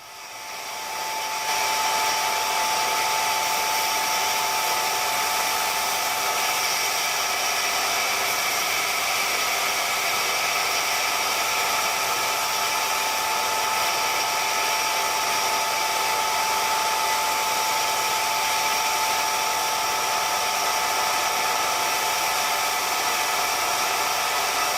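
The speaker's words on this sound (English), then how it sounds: "we're gonna shine up a little shiny spot here over at the belt sander real quick" Steady, loud belt sander whine running continuously at close range as a steel punch is polished, a constant hissing grind with no pauses.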